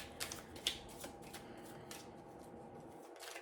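Tarot cards are shuffled and pulled during a reading, giving a soft riffle and a few light snaps and flicks. The card sounds are close and quiet, with no talk over them.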